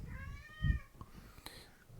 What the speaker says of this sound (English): And there's a cat. Meow.